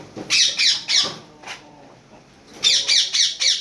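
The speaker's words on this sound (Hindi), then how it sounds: "ये देखो बहुत प्यारा परिंदा है ये" Parent birds of grown chicks that will become roosters and hens squawk close by, in repeated loud bursts of harsh calls with a short pause in the middle before another rapid series.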